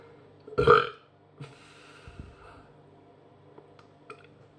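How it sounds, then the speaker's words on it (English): A single loud, close burp while drinking Guinness pilsner beer, a short throaty belch followed by quiet breathing and a few faint clicks. "Wasn't expecting a burp there, fans."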